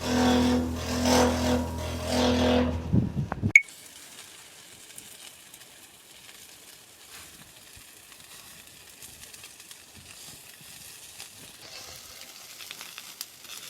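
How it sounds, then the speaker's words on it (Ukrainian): Quails grilling over charcoal give a faint, steady sizzle and occasional crackle after a loud passage with a car engine revving fades out abruptly, low hiss continuing for the rest. "Будемо жарити перепілочок"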